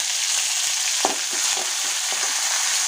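Vadagam and curry leaves fry with mustard seeds in hot oil, making a loud, dense, constant crackling sizzle with a few faint pops and scrapes.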